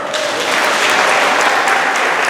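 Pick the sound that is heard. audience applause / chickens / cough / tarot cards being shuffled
audience applause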